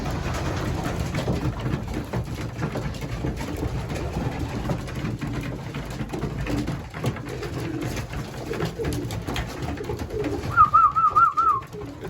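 Racing pigeons feeding in a loft coo softly and steadily under a low background rumble, with a louder burst of cooing near the end.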